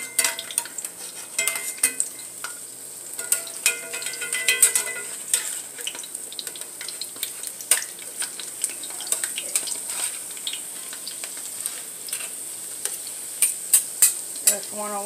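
Zucchini fritters sizzling in a frying pan, a steady hiss of hot oil broken by clinking spatula scrapes and taps as they are flipped.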